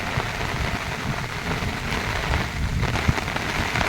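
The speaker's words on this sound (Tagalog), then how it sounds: "Ayan, palakas na naman ng ulan" Heavy rain pours down steadily in a dense, even roar that builds slightly in strength, with no voices over it.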